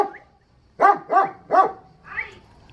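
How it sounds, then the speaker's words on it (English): A dog barks aboard a sailing boat, giving three sharp close barks in quick succession followed by a softer fourth bark, loud and clear against a quiet background. "can you talk to that dog and tell it to be quiet?"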